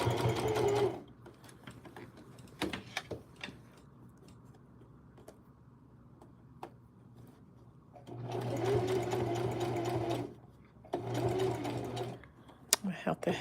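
A sewing machine stitches along the folded hem of a pair of jeans in two steady runs, the first brief and a longer one later, with quieter pauses of handling and small clicks between them.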